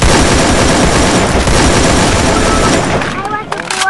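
Dense, continuous automatic gunfire fills a Free Fire battle royale match, loud and unbroken for about three seconds before cutting off into quieter scattered game sounds.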